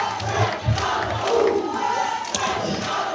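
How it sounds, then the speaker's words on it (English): A large indoor audience at a leadership event in Tampa breaks into sustained applause and loud cheering, with a steady wash of clapping and shouts held at full volume throughout. "So if you would, big round of applause."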